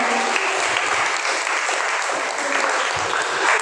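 A church congregation applauds loudly during a worship service, a steady dense wash of clapping sustained throughout.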